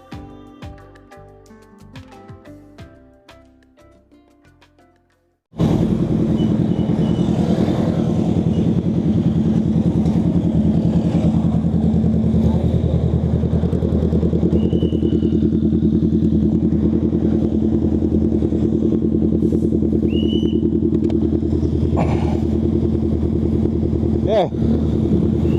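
A big bike motorcycle engine starts up after quiet handling noises and runs steadily, loud and close with a constant rumble for the rest, while a person talks over it.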